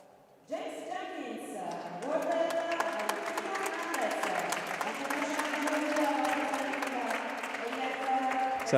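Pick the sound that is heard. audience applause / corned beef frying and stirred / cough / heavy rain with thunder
audience applause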